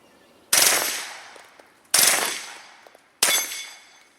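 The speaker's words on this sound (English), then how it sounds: "on a HK MP5, 9mm. It's even full auto rated for 45." An HK MP5 in 9mm fitted with an Aklys Defense Pilum M suppressor fires three sharp, loud bursts about 1.5 seconds apart. Each burst fades away gradually, and no one talks.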